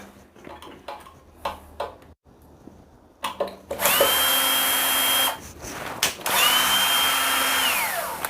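A power screwdriver or drill whirs in two sustained bursts while removing a screw from a toilet seat fitting, with scattered clicks and handling taps before it; the tool sounds close and loud.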